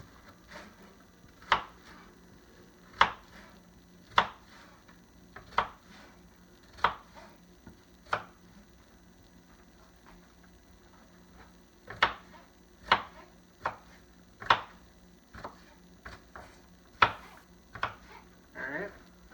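A knife chops peppers and onions on a cutting board, sharp distinct knocks spaced about a second apart with a short pause midway, close and clear over quiet room hum.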